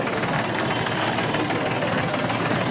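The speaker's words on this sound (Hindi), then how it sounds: "हजारों की संख्या में ट्रैक्टर यहाँ पर मौजूद हैं।" Tractor engines idle steadily at a crowded farmers' protest, a continuous loud rumble with a broad roar over it and no break.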